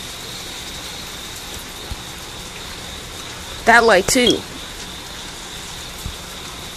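Heavy rain pours steadily during a city flood, a dense hiss of drops on surfaces throughout, with a brief burst of nearby talk in the middle.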